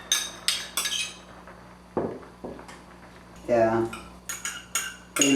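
Metal utensils clink and scrape against a dish while mixing chopped tomatoes and vegetables for foul mudammas, a series of sharp close taps and knocks with a brief voice in between.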